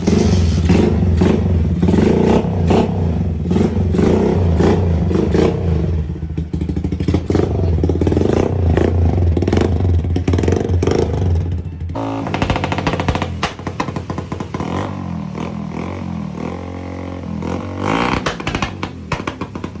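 Bajaj motorcycle engine running after a repair, a loud, close, steady idle with rattling and revving that shifts character partway through, with no talk.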